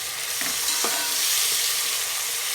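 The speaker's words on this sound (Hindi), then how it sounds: "अब इसको हम थोड़ा सा फ्राई कर लेते हैं" Cumin seeds and a small tomato frying in a pan for zeera chawal: a steady, dense sizzle close up, with a few faint stirring touches and no voices.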